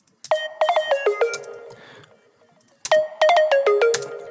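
A pluck synth made with FM synthesis plays two short bursts of bright, quickly decaying melodic notes, separated by a pause.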